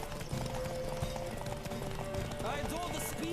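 Horses gallop in The Witcher 3 during a race, their rapid hoofbeats clattering steadily at moderate volume under game voices and speech.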